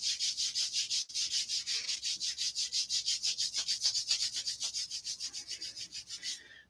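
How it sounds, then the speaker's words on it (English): Palms of the hands rubbed briskly together during a yoga session, a close, steady run of rhythmic swishing strokes that continues for several seconds with no talk before stopping abruptly. "Bringing the palms of your hands together, rubbing them together."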